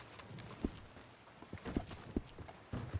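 Horse hooves clopping in the video game Red Dead Redemption: a few scattered, soft hoof thuds at an irregular walking pace, quiet and close, over a faint ambient background.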